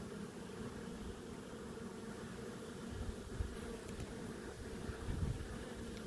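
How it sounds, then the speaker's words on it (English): Honey bees buzzing at a hive entrance fitted with a robbing screen, a soft continuous drone with a few louder buzzes as bees fly close, no talk. "you can see they're kicking some of the bees out"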